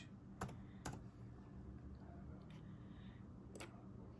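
Keys tapped on a computer keyboard while entering data into a budget spreadsheet, a few sparse, faint clicks spaced apart over a quiet background hum.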